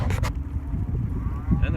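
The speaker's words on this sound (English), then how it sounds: "Driving cattle out." Cattle being driven out moo several times over a low rumble of movement and hoofsteps, one longer call near the start and another toward the end, moderately close.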